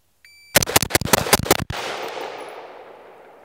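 Rapid string of about a dozen sharp AR-15 rifle shots from an Anderson Manufacturing rifle during a timed shooting drill, loud and close, ending with a long fading echo across the range.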